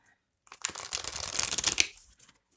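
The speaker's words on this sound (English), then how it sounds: "it's so nice to shuffle. It's just really good cardstock" Tarot cards printed on matte, non-glossy cardstock are shuffled by hand in a single quick, close riffling burst lasting under two seconds.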